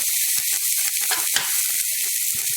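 Steady, dense sizzling of onions sautéing in a hot pan for ponnanganni keerai poriyal, continuous and close with small crackles throughout and no talking.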